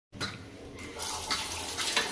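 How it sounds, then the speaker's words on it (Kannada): Tap water runs steadily into a kitchen sink as a blindfolded woman washes dishes, a continuous close splashing stream with faint clinks underneath. "ಚಿನ್ನಿ ಇವಾಗ ಕಣ್ಣು ಕಟ್ಕೊಂಡೆ ಪಾತ್ರೆ ತೊಳಿತಾ ಇದ್ದಾಳೆ"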